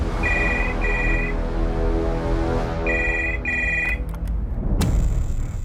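A telephone rings in double bursts, two pairs of bright electronic trills separated by a pause, loud and close over a dramatic music bed, with a click near the end, during a police crime drama.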